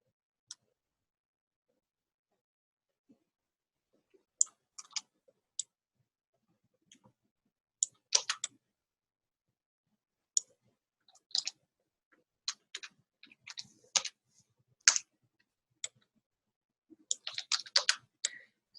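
Computer mouse clicking during animation work, scattered sharp clicks arriving singly and in quick clusters, sparse at first and busier toward the end, close and quiet with no talk.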